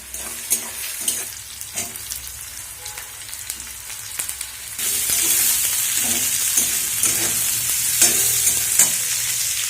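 Onions and cauliflower fry in a pan while being stirred, a steady crackling sizzle that grows louder and denser halfway through, with intermittent scraping clicks from the spoon and no talking.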